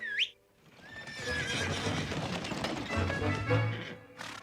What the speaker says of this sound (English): I suppose a couple of pure white horses and a wagon will do